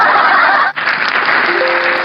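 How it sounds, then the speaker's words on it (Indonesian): Audience applause for a guest speaker at an Indonesian talk event: a steady, dense wash of clapping that breaks off for an instant near the middle and then carries on evenly to the end. "Kita kasih tepuk tangan buat narasumber kita."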